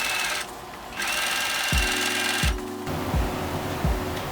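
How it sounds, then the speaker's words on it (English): A sewing machine stitches along a marked line on a kimono sleeve seam of a wrap top, running in several short motorized bursts with brief pauses between them. "we can sew along where we drew the line to secure it."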